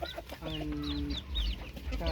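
A rooster crows at a Thai village farm with poultry, a single drawn-out call rising over clucking hens and faint bird chirps nearby, fairly loud against background farmyard noise.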